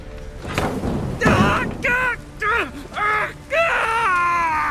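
Screams and pained groans from The Witcher 3: Wild Hunt, with a heavy thud early on, followed by several loud wailing cries in quick succession.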